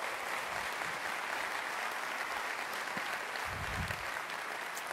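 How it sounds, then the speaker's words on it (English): Sustained applause from a large keynote audience at VMworld 2016 fills the hall steadily for the whole stretch, with a brief low cheer rising near the end. "Let's just give them a round of applause."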